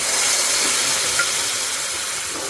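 Chickpeas with a little water hit a hot pan for Kerala kadala thoran and set off a loud, close, continuous hiss and sizzle that fades only slightly over a few seconds.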